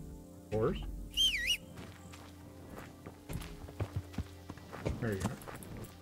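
Horse hooves clop unevenly on hard ground in short bursts in the video game Kingdom Come: Deliverance, with a few bird chirps and rustles around them.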